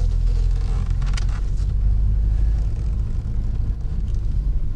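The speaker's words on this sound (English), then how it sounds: "we're gonna go for a test drive around around the parking lot" A 2016 Honda Accord Sport on a test drive around a dealership parking lot gives a continuous low rumble of engine and road noise, heard from inside and fairly loud throughout.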